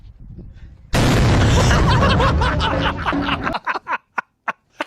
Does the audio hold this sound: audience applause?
no